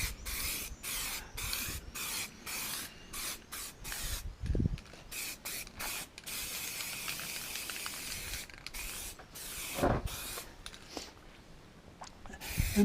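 Spray gun dusting single-stage paint onto a 1940s Wolseley car body in repeated short bursts of hissing spray separated by brief pauses, close and steady, with no talking.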